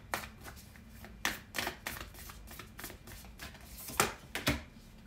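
A deck of oracle cards is shuffled by hand in a quiet room, giving soft, brisk riffling bursts at irregular intervals, close and unaccompanied by speech.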